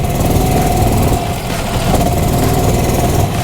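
A steady, loud engine drone holds at a constant pitch throughout, laboring without revving up, with a continuous vibrating rumble.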